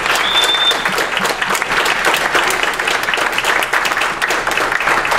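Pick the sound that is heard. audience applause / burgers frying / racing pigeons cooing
audience applause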